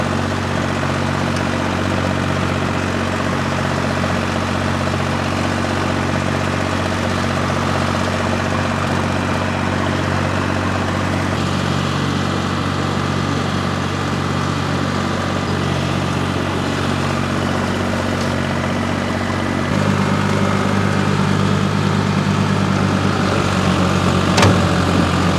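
A tractor engine running steadily at a constant drone, loud and close, before mowing weeds with a bush hog; no voices, with a slight shift in tone near the end.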